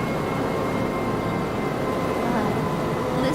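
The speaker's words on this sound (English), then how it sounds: "This is what train conductors hear when they're riding a train." Steady, loud rumble and rolling rail noise of a Japanese train in motion, heard from the conductor's position, continuous and unbroken throughout.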